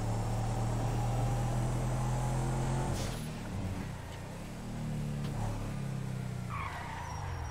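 A car drives in the video game Arma on a roleplay server. A steady engine drone shifts pitch partway through, with a short tire skid and a moderately loud hum that continues throughout.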